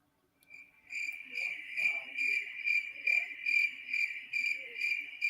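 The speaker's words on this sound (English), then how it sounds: "Here's the crickets." Crickets chirping as a played-in sound effect, a steady pulsing high trill that starts abruptly and carries on loud and clear, with faint talk underneath.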